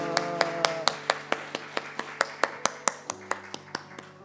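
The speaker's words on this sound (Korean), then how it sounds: "우리 박수로 축복합니다" Church congregation at a Sunday service clapping together in a steady, even rhythm, about twenty sharp claps over four seconds, with a low sustained organ or keyboard tone underneath.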